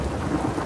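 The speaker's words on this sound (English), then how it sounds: "okay, lightning thunder" Thunder rumbles low and dense during a rainstorm in The Last of Us Part 2 video game, a brief heavy roll with rain hissing underneath.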